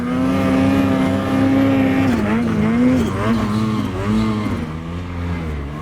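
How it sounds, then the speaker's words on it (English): A Ski-Doo Summit 850 E-TEC Turbo snowmobile roars loud and close, its turbocharged engine note rising and falling with fluttering bursts as boost is released. "You can hear that flutter, and that's basically all that air that you've built up with the boost is building up on the intake side."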